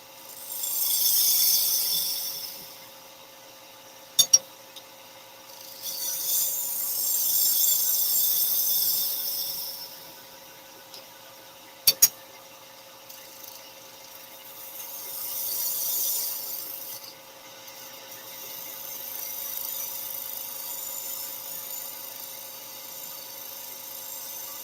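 Wood turning on a lathe, with a steady motor hum under repeated swelling bursts of hissing as the tool cuts shavings from the spinning piece, plus two sharp clicks between passes.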